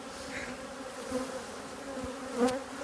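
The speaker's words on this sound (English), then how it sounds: "Tons of bees." A steady, close drone of many honey bees buzzing around an open hive, with a few louder passes near the end.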